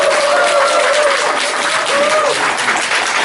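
Big round of applause from a lecture audience welcoming the presenter to the stage, dense and steady clapping throughout, loud and close with a faint crowd murmur underneath.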